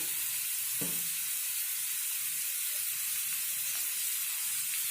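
Garlic and ginger fry in a pan with a steady, even sizzle and hiss throughout, plus a single soft knock near the start; no voices.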